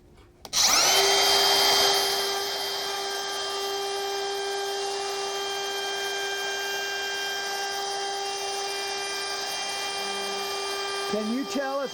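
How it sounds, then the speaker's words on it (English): A router bit spins up and whines at a high steady pitch while freehand carving a sign in cherry wood, a loud close tool drone that settles after a sharp start and then winds down near the end. "The rotation of the router bit may be throwing the sawdust right at you"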